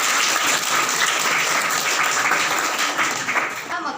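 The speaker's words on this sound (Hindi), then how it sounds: "ज़रा जोरदार तालियों से इनका स्वागत किया जाए।" Dense, steady applause from a school audience at an Independence Day program fills the clip, loud and continuous, fading slightly at the end.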